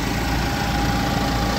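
A Deutz-Fahr 635C RV Shift tractor engine idles steadily up close, a loud, even low rumble with constant vibration and no breaks.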